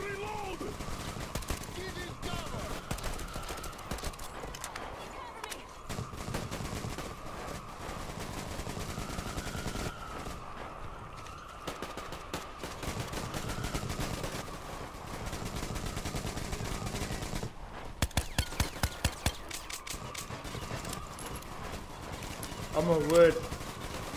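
A turret machine gun fires in the Metro Exodus video game in rapid, sustained bursts that continue almost nonstop, with a sharper volley near the end. A voice speaks now and then over the gunfire.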